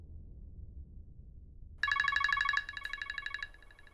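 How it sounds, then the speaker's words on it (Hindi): A telephone rings in a home after a stretch of near silence, a bright electronic ringtone of rapid trilling bursts that starts abruptly, then continues more softly in a repeating pattern, fairly close. "फोन उठाओ।"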